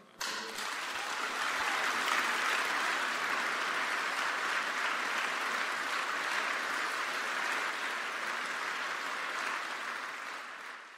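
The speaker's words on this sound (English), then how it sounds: "Please give a rounding applause to Ralph Nader," An audience gives a long, steady round of applause to consumer-rights advocate Ralph Nader at a Project Censored event, even dense clapping holding for about ten seconds before tapering off.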